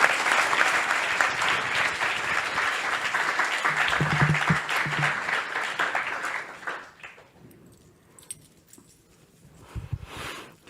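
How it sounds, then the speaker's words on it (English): Audience applause at a religious birthday celebration in a temple hall, a loud crowd of clapping lasting about six seconds before fading into quieter room noise with a few scattered claps. "So give a round of applause to Jagarini Mataji."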